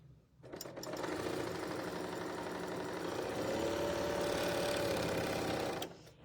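A sewing machine chain-stitches a quarter-inch quilt seam, running steadily and close for about five seconds, a rapid even mechanical whir with no talking.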